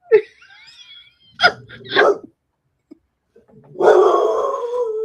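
A dog lets out a few short barks and then a longer, drawn-out howl-like cry, loud and close, separated by brief gaps of silence, with no talking.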